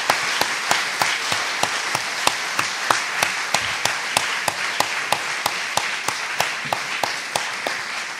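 Slow, evenly spaced claps ring out in a hall at an evening Bible study gathering, a steady rhythmic clapping of moderate loudness with no talking over it.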